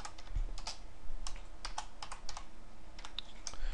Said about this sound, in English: as soon as I start speeding up, my typing gets horrendous.